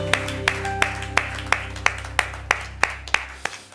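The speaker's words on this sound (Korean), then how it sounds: "우리 하나님께 영광과 감사의 박수 올려드리겠습니다." A small church congregation claps in a slow, even rhythm, about eleven distinct claps spaced evenly, fairly close and moderately loud, with a low hum underneath.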